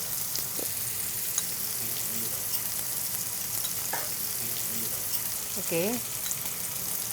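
Spices frying and sautéing in a pan for a Bengali home-style dish, a steady close sizzle running throughout, with a brief spoken word partway through.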